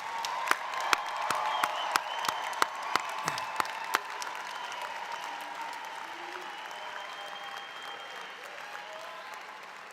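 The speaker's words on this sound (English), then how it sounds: "please join me in another round of applause for our graduates" A commencement crowd applauds the graduates at Roosevelt University's spring 2019 morning ceremony, a steady wash of clapping with several sharp, loud claps standing out near the start before it settles and thins out.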